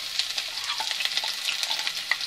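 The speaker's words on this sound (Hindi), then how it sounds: "सारी वेजिटेबल्स फ्राई हो चुकी हैं, अब हम बचे हुए तेल में प्याज फ्राई करेंगे।" Onions fry in leftover oil in a pan, a steady close sizzle broken by frequent scraping stirs, with no voices.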